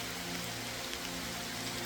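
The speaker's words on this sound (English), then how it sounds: "as it rains in nature, light rain" Light rain drizzles steadily outdoors, a faint, even hiss of drops with no distinct rhythm and no voices.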